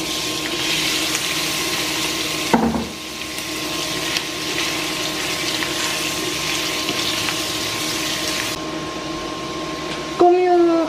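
Butter melting in a frying pan before yellowfin tuna goes in, giving a steady broadband sizzling hiss over a low hum, with a brief clatter partway through.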